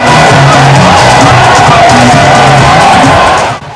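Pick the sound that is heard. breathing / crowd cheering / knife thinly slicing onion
crowd cheering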